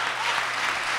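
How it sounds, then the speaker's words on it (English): Audience applause fills a hall during a mayor's State of the City address, a dense steady wash of many hands clapping, loud and continuous for the whole moment with no voices standing out. "yeah, you can clap for that"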